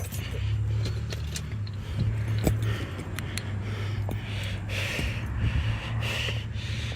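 A car engine idles at high RPM right after a new master cylinder was fitted, a steady close drone with scattered clicks and small mechanical noises over it.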